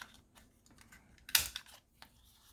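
A paper punch gives a single sharp snap, with a few faint clicks and taps scattered before and after.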